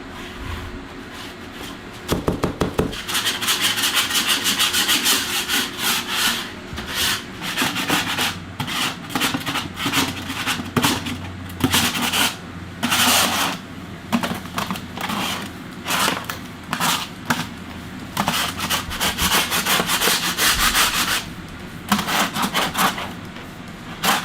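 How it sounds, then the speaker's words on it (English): Hand scraping of a surface, a continuous loud rasping and rubbing close by with quick repeated strokes, carrying on almost without pause. "I gotta get down there, hand scrape it off."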